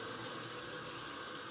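Running tap water pours into a bathroom sink while a makeup brush is rinsed, a steady, full hiss and splash heard close and continuous for the whole moment.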